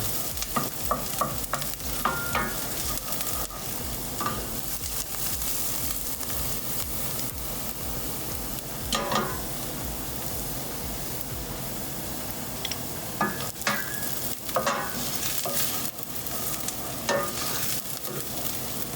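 Aromatics for keto BBQ pork bun filling sizzling steadily in a pan over medium heat, a continuous close crackle with periodic spatula scrapes and stirring knocks throughout.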